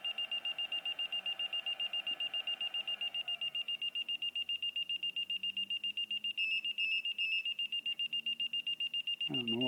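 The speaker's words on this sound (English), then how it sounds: "I don't know what that beep is." A LiPo battery charger beeps in a steady, rapid repeating pattern to signal a finished charge, continuing throughout at an even level with a brief change near the end.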